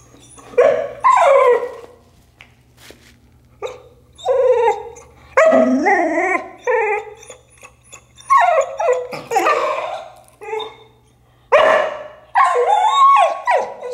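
Frustrated dog barking in repeated bursts during a heel and place training session, loud and close, with some whimpering and howl-like tones between barks, gaps of quiet separating the bouts.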